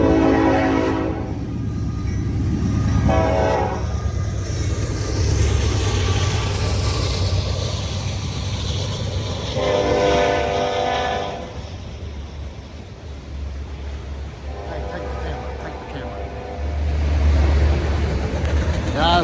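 A train rolls past nearby, loud and continuous with a rumbling low roar and blaring horn blasts, while people talk over it.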